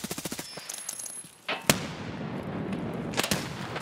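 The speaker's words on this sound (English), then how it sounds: "I'm gonna aerial nade." In Escape From Tarkov, a thrown grenade goes off after a quick series of gunshots: a sharp, loud blast followed by a lingering rumbling tail, with another crack shortly after.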